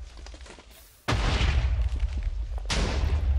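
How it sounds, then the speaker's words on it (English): Cannon fire and explosions in the video game Artilea: two loud, sudden booming blasts followed by sustained rumbling, with fainter distant pops before the first hit. "Cannons back and forth. You can hear the explosions everywhere."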